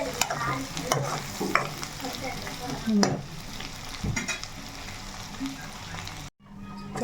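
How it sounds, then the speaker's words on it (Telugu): Farm chicken fries in a pan with a steady sizzle and frequent scraping stirs close by. A faint voice can be heard in the background, and the sound cuts out briefly near the end. "మనకి ఫ్రై అయితే చక్కగా వేగిపోయింది చూడండి"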